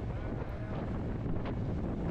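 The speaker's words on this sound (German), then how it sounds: "Hochkonzentriert gegen den Wind." Strong wind gusts buffet the microphone by the sea near Cordouan lighthouse, a steady loud roar with no pauses throughout.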